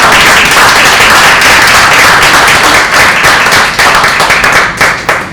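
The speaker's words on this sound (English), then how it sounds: "we should all give a big round of applause" Small gathering at a talk about the Milnes of Durham, New Hampshire, breaking into a loud, close round of applause whose clapping thins and tapers toward the end.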